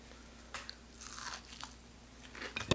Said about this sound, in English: Nice and crispy and crunchy.